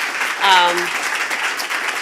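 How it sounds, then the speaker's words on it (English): Audience at a women-in-tech talks event applauds the speakers, a steady wash of many hands clapping, moderately loud, with a voice briefly heard over it. "So can you please just give them one more round of applause?"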